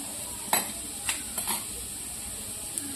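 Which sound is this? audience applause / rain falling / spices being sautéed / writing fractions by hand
spices being sautéed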